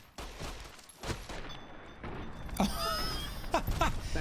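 Gunfire in Fallout: New Vegas: a burst of sharp, loud shots crackling over mechanical clanks and creaks, with heavier reports clustered toward the end.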